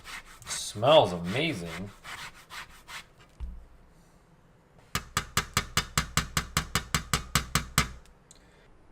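A lemon is rubbed briskly against a zester in a kitchen, giving a run of about fourteen sharp, evenly spaced scraping strokes in the second half, after a short spoken remark and a soft thud.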